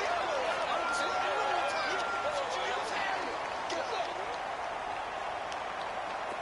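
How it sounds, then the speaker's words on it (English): Stadium crowd in a PlayStation 4 American football game broadcast building up ahead of a big third down, a steady moderate roar with scattered claps and shouts that gradually eases off. "the crowd getting into it as we come up on a big 3rd down"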